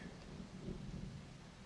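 Steady rain falls in the video game Lego Fortnite Odyssey with a low rumble of thunder beneath it, a soft, even wash of noise throughout.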